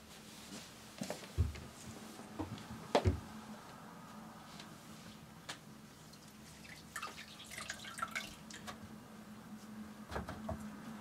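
Tepid water for rinsing off a facial peel drips and splashes softly now and then in a quiet room, with faint handling noises and no talking.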